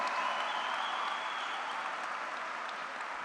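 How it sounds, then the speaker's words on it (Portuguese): Audience applause for a college choir at a church service, a dense steady wash of clapping lasting the whole stretch with no talk over it. "vamos aplaudir o coral do college"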